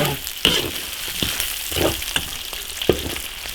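Ginger, garlic and bean paste stir-frying in an iron wok, a steady close sizzle broken by several sharp scraping clacks of the spatula against the metal, with no talk.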